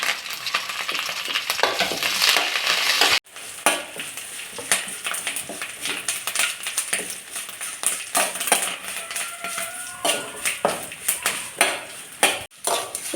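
Garlic, dried red chillies and curry leaves fry in hot oil for Kerala-style lemon pickle, a steady loud sizzle with spoon stirring and scraping against the pan throughout.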